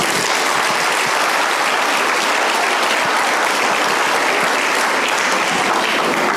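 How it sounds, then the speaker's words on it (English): Loud, dense applause from a large crowd, sustained and even throughout with no pauses. "please give a round of applause"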